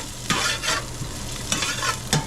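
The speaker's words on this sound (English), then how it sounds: "I'm gonna throw some sun-dried tomatoes in." Sun-dried tomatoes sizzling in a frying pan for a puttanesca pasta, with several scraping stirs of a utensil across the pan over a steady close frying hiss.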